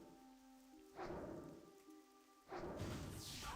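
Rain in the game World of Warcraft (Turtle WoW), a soft continuous wash of rainfall that swells in two gusty bursts over held musical tones, faint, with no voices.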